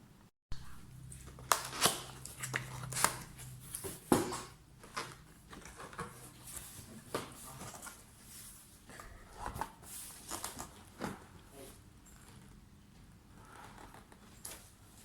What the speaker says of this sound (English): Let's do the unboxing.